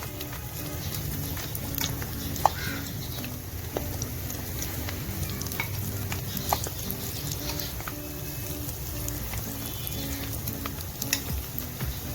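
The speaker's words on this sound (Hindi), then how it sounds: "इनको हल्की आंच पर लाइट कलर में फ्राई करके निकाल लूंगी।" Cauliflower pakoras deep-frying on low heat in mustard oil, making a continuous close bubbling sizzle with small crackles and pops throughout, and no voices.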